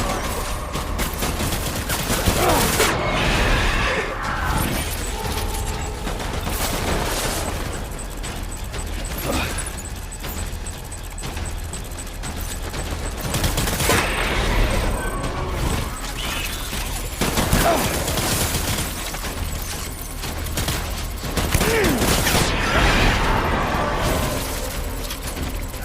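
Gunfire in the video game Death Stranding, with loud, dense bursts of shots and booming blasts that keep up in waves nearly throughout.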